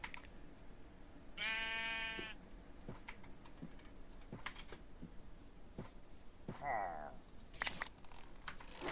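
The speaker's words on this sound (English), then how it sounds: "Sheep." Sheep bleating outdoors, two distinct calls a few seconds apart, the first longer and clearer, the second shorter, amid faint background clicks and rustle.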